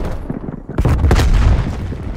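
A grenade explosion in the multiplayer shooter Call of Duty Black Ops Cold War: after a short quiet moment, one loud, close boom with a deep rumbling tail that fades only slowly.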